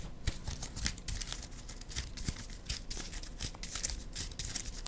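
Quick papery riffling and snapping of playing cards being shuffled up close, a busy crackling patter that keeps going the whole time with no talking.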